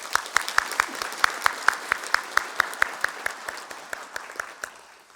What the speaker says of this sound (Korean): 우리 박수로 칭찬해 줄까요?